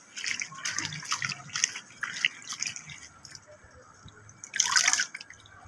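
Mint leaves washed by hand in a second bowl of water, with close, intermittent splashing and dripping in irregular bursts and a louder slosh near the end.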